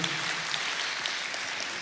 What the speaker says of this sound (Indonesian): Beri tepuk tangan untuk Tuhan